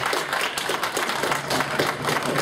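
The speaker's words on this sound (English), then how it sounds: "Come on, the one clap." A town hall audience claps as one continuous dense wash, loud and steady for the whole stretch, with no single claps standing out and no talking over it.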